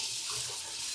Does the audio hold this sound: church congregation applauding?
no